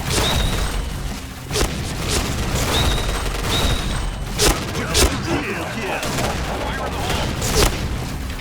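Gunfire in the zombie mode of the video game Point Blank: repeated sharp shots and bursts with booming impacts over a busy game soundtrack, while a player talks throughout.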